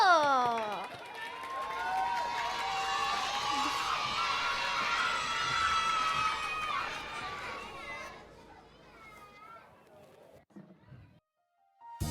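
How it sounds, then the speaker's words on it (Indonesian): Children cheer and clap loudly at a primary school extracurricular event in Kupang, a dense crowd roar that holds steady for about eight seconds before fading into scattered voices. "kita panggilkan dengan tepuk tangan yang meriah Alvaro Seto."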